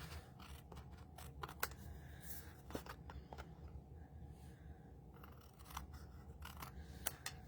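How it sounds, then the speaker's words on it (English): Scissors snip small paper pieces during a stamping card craft, a quick run of crisp close cuts in clusters, with a quiet pause mid-clip before more snips. "Okay, now we're going to cut off these little pieces. So let's just cut them off."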